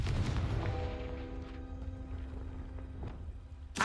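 Fiery Confringo spell blasts in Hogwarts Legacy, a loud initial boom settling into a fading rumble with a tonal whine, and another sharp burst right at the end.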